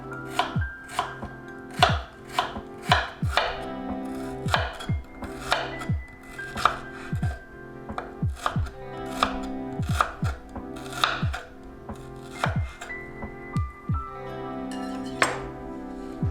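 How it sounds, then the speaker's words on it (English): A knife thinly slicing red shallots on a cutting board, a close, quick run of crisp, sharp chops in a steady rhythm, about twenty strokes with short pauses. "I'm going to thinly slice red shallots"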